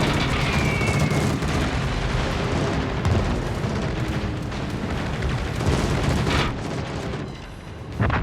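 Naval gunfire and heavy booms in a World of Warships battle, a dense continuous roar of blasts and rumbling explosions throughout, loud and sustained with no talk.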